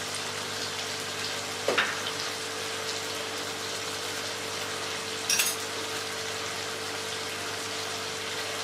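Cumin seeds, half a spoonful, frying in hot oil while making a chicken and cauliflower curry: a soft, even sizzle with a steady hum underneath and two brief crackling spurts.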